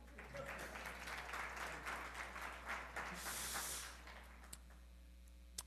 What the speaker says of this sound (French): On applaudit, c'est bon?